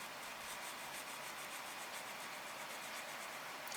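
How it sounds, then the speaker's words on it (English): Sandpaper rubs steadily over a painted plastic body of an Aoshima 1:24 Toyota 86 scale model car, a soft continuous scratchy hiss at close range with no talking. "after doing this sandpaper, it's not going to have the same sheen"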